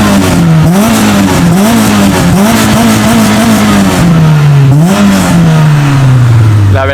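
A Renault Clio 2 RS F1 Team hatchback with 182 hp and a stripped rear revs its engine hard and repeatedly, loud and close, the note rising and falling in quick blips before settling into a long steady drone.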